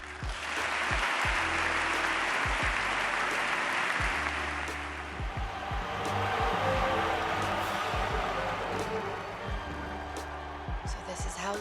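Thunderous applause from a large assembly in a Star Wars film scene, a broad sustained roar of clapping with low booming thuds and voices beneath it.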